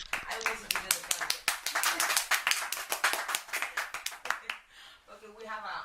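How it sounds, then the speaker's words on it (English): Studio clapping for the Afrobeat artist Patoranking, close and loud, with sharp rhythmic claps from several people over about six seconds and voices talking over them near the end. "We should clap for him."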